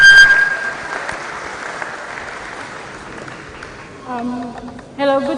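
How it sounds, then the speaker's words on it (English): An audience at a tech conference claps steadily across the room, fading gradually, before a voice starts speaking over the tail end. "A round of applause for Joy as she steps forward."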